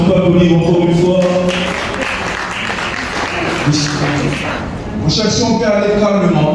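Crowd at a sports trophy award ceremony applauding in a steady wash of clapping, with a voice talking loudly over it and then fading into the background.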